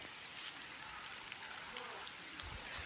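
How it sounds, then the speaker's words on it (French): Rain falls suddenly outdoors, a steady close hiss of drops with no pauses and no talking. "là d'un coup il se met à pleuvoir"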